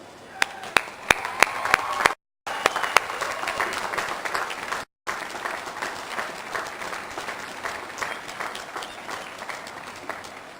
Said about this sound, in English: giving those people a well-deserved round of applause